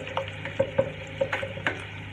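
Butter melting in a hot pan for ham fried rice gives a soft sizzle, broken by several sharp pops and crackles spaced irregularly across the moment, close and fairly quiet.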